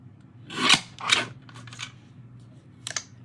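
Scissors cutting a small sliver off a greeting card, two close, soft rasping snips followed by lighter trimming sounds, alone without speech.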